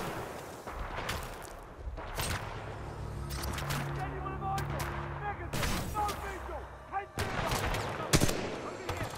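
Rapid bursts of gunfire from the first-person shooter Titanfall 2 in its campaign, repeated loud cracks over a steady game soundscape, with a person talking excitedly over the shots.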